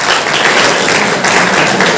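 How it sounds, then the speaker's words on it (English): Audience at a career guidance session in Byndoor breaking into applause, a loud, close, continuous burst of many hands clapping filling the short clip. "A big round of applause for this sister."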